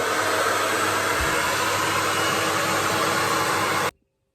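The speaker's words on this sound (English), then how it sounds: "the blow dryer is making a hell of noise" A blow dryer runs continuously at close range, a loud steady broadband whoosh of air that cuts off abruptly near the end.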